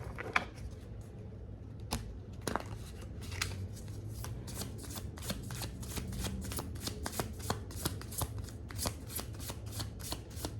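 Oracle cards being shuffled by hand, a steady run of soft riffling flicks and taps close up, quiet and continuous, with no one speaking.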